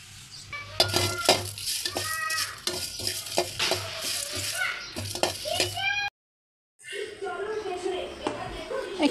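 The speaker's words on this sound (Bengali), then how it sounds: "এখন এই সবগুলোকে খুব ভালোভাবে ভেজে নিব।" Whole spices such as cloves, cinnamon, bay leaves and panch phoron frying in a pan: clinks and scrapes of a utensil stirring against the metal with a light sizzle, while people, including a child, talk nearby; a brief silent gap interrupts.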